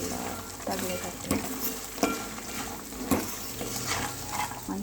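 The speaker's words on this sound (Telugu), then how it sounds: "సో ఇది మంచిగా కలిపేసుకొని ఒక 5 minutes ఫ్రై అయిపోతుంది" Makhana (fox nuts) stirred and fried in oil in a pan for a curry, with a steady close sizzle throughout and several sharp scraping clinks of the stirring utensil against the pan.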